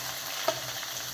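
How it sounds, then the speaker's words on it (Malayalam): Mustard seeds spluttering in hot oil as Kerala cooking begins: a steady sizzle with two or three sharp little pops over about a second, close and fairly quiet. "ഇതിലേക്ക് നമുക്ക് കടുക് ഇട്ട് കൊടുക്കാം"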